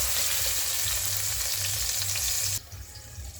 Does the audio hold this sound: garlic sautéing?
yes